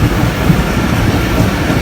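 A train rolls through a railway station in Pakistan without stopping, a loud, steady, close rumble of wheels on track with a dense rushing roar throughout.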